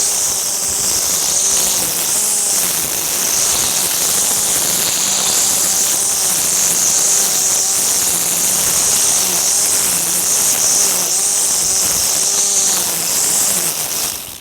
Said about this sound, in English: It sounds like it's trying to ramp the motor up faster to keep that, maintain a certain RPM.